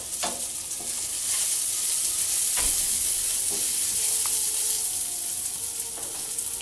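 Salmon fries in a hot pan with a bright, steady sizzle and crackle, broken by occasional stirring clinks and scrapes, close and continuous without any talk.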